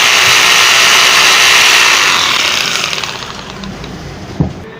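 A repaired electric drill machine runs at high speed with a loud buzzing whine that slowly winds down, ending with a brief thump near the finish.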